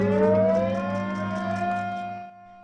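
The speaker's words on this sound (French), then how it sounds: "Les sirènes résonnent dans la ville de Shenyang" Memorial air-raid sirens wail across Shenyang city, a steady rising tone with a faint pulsing beat that fades and cuts off near the end.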